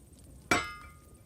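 A single sharp metallic hammer strike rings out in the God of War video game, a bright clang with a shimmering ringing tail that fades over most of a second, heard alone against a quiet background.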